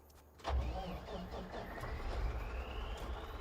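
A tractor engine cranks and catches with a loud low rumble, then settles into a steady running drone with a faint rising whine, close by on an Iowa farm.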